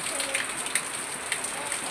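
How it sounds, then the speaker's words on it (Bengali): Steady rain falls in a dense, even hiss with scattered drop patter, continuous and close throughout. "দেখেন বৃষ্টি পড়ছে"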